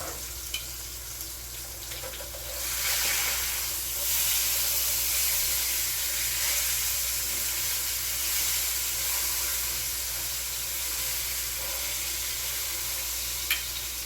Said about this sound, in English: Now that it's been sitting there for a couple of minutes, I'm not worried about the sear sticking to the pan.